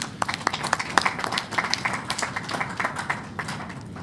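An audience at a general assembly gathering in Abu Dhabi bursts into a round of applause, a steady patter of many hands clapping at moderate volume in a room, with no voices over it.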